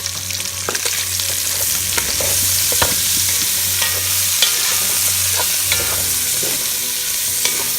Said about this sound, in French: on attend bien que l'ail soit un peu roussi avant de rajouter le reste